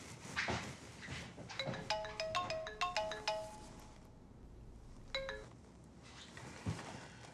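Mobile phone ringtone chiming in bright repeated melodic bursts, a long run followed by a shorter one after a pause, moderately loud over a quiet room background.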